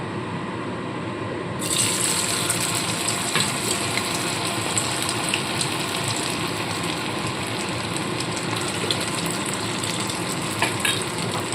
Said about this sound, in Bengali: যেগুলো ম্যারিনেট করা আলুগুলোকে আমি এর মধ্যে ছেড়ে ভেজে নেবো